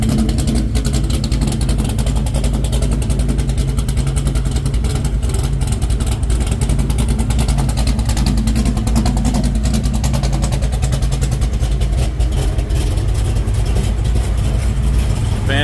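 A car engine idles at 20 psi oil pressure in a project car fitted with a new roll cage, a loud, steady, rumbling idle close by with a faint rattling texture and no talking.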